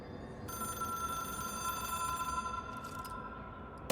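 A Hotline phone in the video game Control rings with a steady electronic bell tone that starts abruptly and holds for a few seconds before cutting off, clear above a quiet game ambience.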